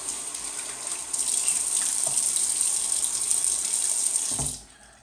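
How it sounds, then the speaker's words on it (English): A tap runs steadily into a sink to wet the face before a wet shave with a Schick Injector razor, a close, even hiss of flowing water that cuts off near the end. "Let me just wet the face."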